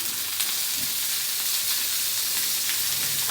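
Fish sizzling as it fries in oil on a tawa, with a dense, steady hiss and crackle close up and no talking.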